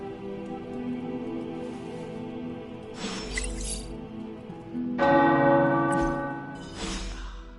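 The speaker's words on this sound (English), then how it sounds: "The tower bells are ringing." Large tower bells in the video game Midnight Suns ring out in several loud, resonant strikes, each followed by a long humming decay, over a soft rainy background.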